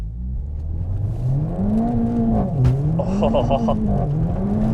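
Mercedes-AMG A45 engine pushed to full power, a loud, sustained rising and falling engine drone lasting the whole stretch, with a brief exclamation from a voice over it.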